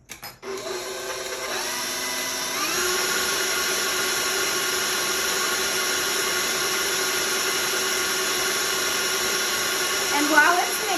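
An electric stand mixer whirs steadily, beating sugar into cooking oil for a coconut pound cake batter, its motor starting up and then holding a constant even hum, close and moderately loud, with no talking.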